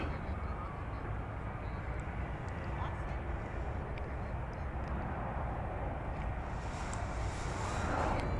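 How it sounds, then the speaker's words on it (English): A Fiji Airways Airbus A350-900 airliner at DFW Airport gives a steady, distant jet engine rumble that swells slightly near the end, with people talking over it. "And here now is the Fiji plane. It's an A350-900."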